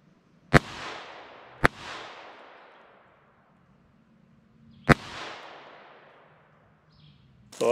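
An FN Five-seveN pistol fires at a robot target outdoors, three sharp, loud gunshots spaced irregularly, each followed by a long rolling echo that fades away.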